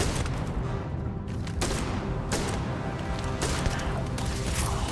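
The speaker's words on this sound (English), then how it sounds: "You notice I keep on stopping after 2 shots." Repeated heavy gunfire bursts from a double-barrel shotgun in the Starfield video game, with loud blasts arriving in pairs over dense, continuous combat noise.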